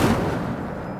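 In the Hogwarts Legacy video game, a cast of the Incendio fire spell bursts with a sudden booming whoosh that fades quickly, loud and alone.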